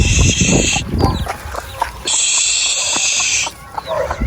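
Chickens being herded inside, clucking in short bursts under two long, steady high-pitched buzzes and a rustling outdoor background, fairly close.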